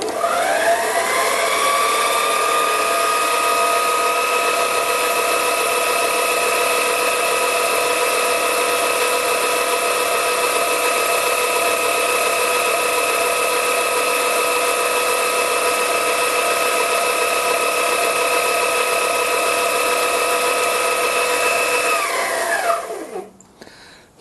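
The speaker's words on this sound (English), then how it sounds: "let's try the same disc, test disc, in the little mini lathe, and I'll spin it up to full speed" A mini lathe spins a test disc up to full speed, giving a loud, steady electric motor whine with a sustained high tone that holds evenly for over twenty seconds, then winds down as the machine is switched off.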